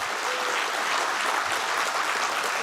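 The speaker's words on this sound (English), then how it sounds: "Such an inspiring story deserves a big round of applause." An audience at a national conclave on self-help-group-led natural farming breaks into applause, a steady, full round of many hands clapping throughout, moderately loud with no talk over it.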